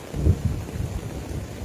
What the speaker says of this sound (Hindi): बड़ी तेज बिजली कड़क रही है